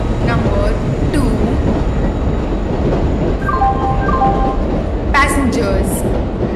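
A video game train, the Vande Bharat Express, rumbles steadily through a busy Indian station, with brief high squeals and chime-like tones partway through and a faint platform announcement in the background.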